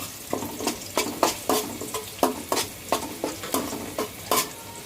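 Green chilies, bay leaves and garam masala fry in a pan for biryani, a steady sizzle broken by about a dozen rhythmic scraping stirs, close and moderately loud, with no talking.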